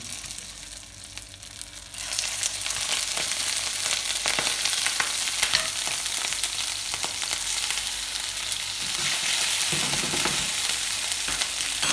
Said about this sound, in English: A little bit of oil in the pan, and we'll just pop these straight into the pan.